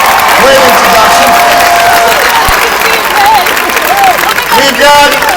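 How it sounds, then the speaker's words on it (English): A crowd at an Obama political rally in Madison applauds and cheers loudly and continuously, with voices whooping and calling out over the sustained clapping. "can everybody please give Katie an unbelievable round of applause for that great introduction"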